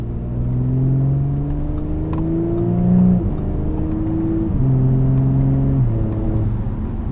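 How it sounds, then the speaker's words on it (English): An Audi B9 S5 in dynamic mode with its exhaust valves open revs in long, loud rising and falling sweeps, with brief drops between pulls as it crackles and burbles, with no talking. "when you put it in dynamic mode, the valves in the exhaust open up, and it gives you a lot of nice like cracks and burbles"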